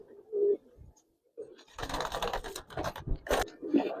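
Racing pigeons in a loft give low, throaty coos in short bursts, broken by rustling and scuffling noises nearby.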